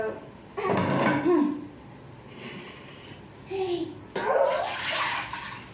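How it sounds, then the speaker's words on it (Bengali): Rice being washed by hand in water in a bowl, with bursts of swishing and sloshing separated by quieter pauses; a voice is briefly heard in the background. "তো এই চালটা প্রথমে আমি ধুয়ে নেব"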